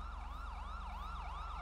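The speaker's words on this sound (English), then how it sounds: "Oh, there's the ambulance." An ambulance siren in the video game GTA 5 wails in a steady rising-and-falling pattern, cycling evenly with an engine hum beneath, moderately distant and alone without talk.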